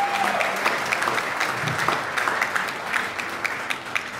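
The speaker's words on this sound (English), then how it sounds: "Let's make some noise, give some love." A crowd at a fundraising event applauds steadily, a dense wash of clapping that holds at a constant level throughout with no voices over it.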